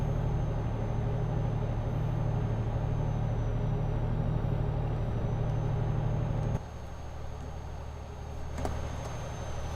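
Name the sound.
truck engine driving, video game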